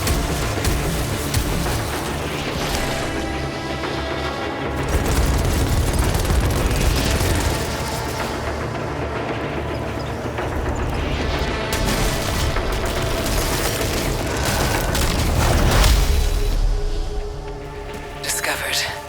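Weapon fire and explosions in the PS5 video game Returnal, continuous rumbling blasts and booms layered with swelling effects, under a speaking voice.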